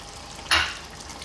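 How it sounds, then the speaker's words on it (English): Cream poured into a simmering mattar paneer curry of peas and cheese over medium heat, heard as one short, bright liquid splash and burst of bubbling that fades within a moment. "Let's drop that 1 cup of cream in there."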